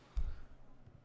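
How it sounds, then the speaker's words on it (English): A single low, heavy boom from a gunshot in the Sherlock Holmes: Crimes & Punishments video game, fairly quiet and muffled, followed by a faint low rumble and a softer thud near the end. "No, that's a gunshot."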